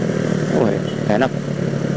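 A modified motorcycle under way, its engine droning steadily while riding with a brief rise in pitch as it accelerates, as someone speaks over the engine noise.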